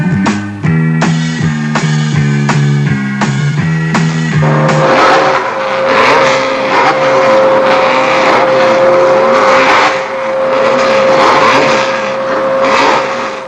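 Formule France Renault Gordini race cars at Le Castellet, engines loud and close, first revving in stepped bursts and then roaring steadily past in a dense, continuous wash of motor noise, with no talking.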